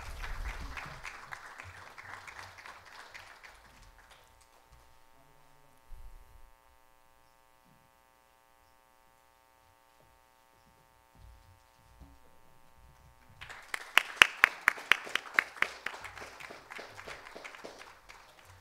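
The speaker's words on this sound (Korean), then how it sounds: "꽃다발을 주실 때 큰 박수 주시면 좋을 것 같습니다." Audience applause as flowers are presented at a KIST alumni talk honouring a flat-panel display pioneer. Steady clapping opens, gives way to a quiet electrical hum, then sharper claps return near the end.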